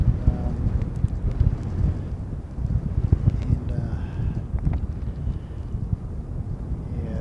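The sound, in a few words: strong wind blowing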